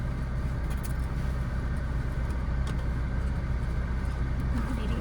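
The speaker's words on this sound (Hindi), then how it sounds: "अब गाड़ी का इंजन ऑन है" Car engine idling steadily inside a vehicle during a first-day driving lesson, a continuous low rumble with no talk over it.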